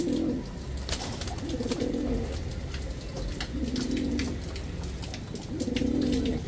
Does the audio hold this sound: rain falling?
no